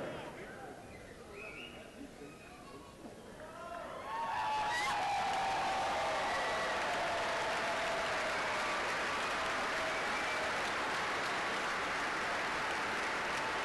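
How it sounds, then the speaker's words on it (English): An audience at a ceremony honoring new presidents breaks into loud, sustained applause after a quieter stretch of announcer talk, the clapping filling the room to the end. "Once again, ladies and gentlemen, let's have one last round of applause for Rodney Conner, Stacy Harris, and Jermel"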